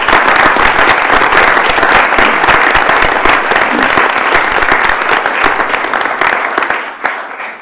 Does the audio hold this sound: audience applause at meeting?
yes